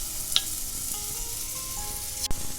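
Marinated paneer tikka sizzles in oil in a kadhai, a steady close frying hiss with a couple of sharp clinks from the utensil.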